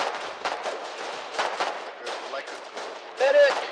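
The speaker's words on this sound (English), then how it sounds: "I am hearing explosions" Repeated booming explosions and bursts of gunfire crackle through a dense, noisy video game battle soundscape along a front line, with a louder blast near the end.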